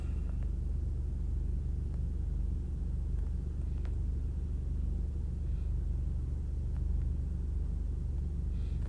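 From inside a moving car comes a low, steady engine and road rumble that drones on evenly, with faint clicks and creaks over it and no speech.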